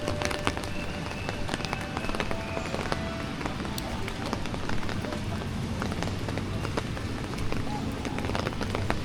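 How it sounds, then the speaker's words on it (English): Heavy rain pours steadily on an umbrella and the pavement in a city street, a dense close patter of drops with sharper splats, while people speak at times. "Today's rain is so big"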